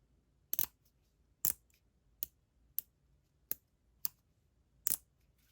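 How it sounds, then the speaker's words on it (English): Seven sharp mechanical clicks of a TPOB Play Mini hair clipper's lever, evenly spaced and close, with quiet pauses between them. "So here is the sound of the click lever."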